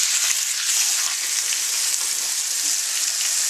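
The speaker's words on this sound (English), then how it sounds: "that pan is mighty hot, and before it goes up in whatever it goes up in, I'm getting this roast in there" A chuck roast sears in a very hot pan already used to cook bacon, giving a loud, continuous hiss and crackle of frying fat, close and steady with no talk.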